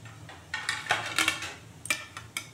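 Fried fritters for a cauliflower curry lifted one at a time out of a frying pan, with soft scattered clinks and scrapes of a metal utensil close by and no talking.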